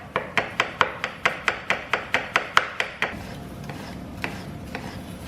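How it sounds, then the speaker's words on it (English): A knife quickly chops shallots and garlic on a cutting board, about fourteen crisp, evenly spaced taps in a steady rhythm, then a few softer, scattered knocks. "I got my shallots, I got my garlic, and I'm just gonna give them a real quick chop"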